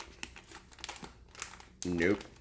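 An Augason Farms survival food pouch being tugged and crinkled in an attempt to rip it open, with repeated plastic rustles and crackles, followed by a brief spoken voice near the end.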